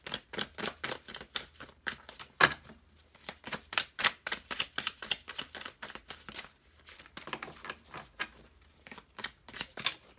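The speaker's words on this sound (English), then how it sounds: "It's taking me a while to pull the cards out of the deck." A tarot deck is shuffled and cards are pulled from it, with rapid crisp riffling and snapping bursts that come in irregular clusters, close and fairly quiet, with no talk.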